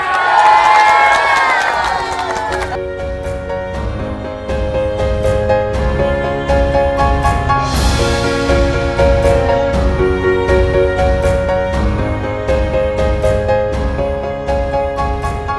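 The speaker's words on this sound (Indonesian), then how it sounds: "Iya, tepuk tangan dulu yuk." A crowd cheers and claps at an outdoor community gathering, with whoops and sharp hand claps rising over a busy, music-like background that continues throughout.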